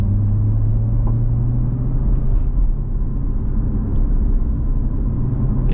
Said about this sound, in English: I'm gonna go approach a highway and just do a little bit of a throttle on ramp for you guys.